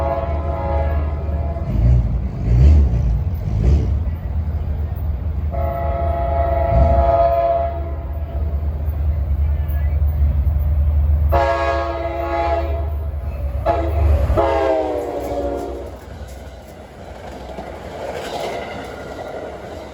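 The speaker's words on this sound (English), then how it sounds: "that train looked like it was powered by a Metro North painted GP40" A Metro North GP40 locomotive rumbles steadily as it approaches, and its horn sounds several long, loud blasts over the heavy engine drone and rolling wheels before the noise fades.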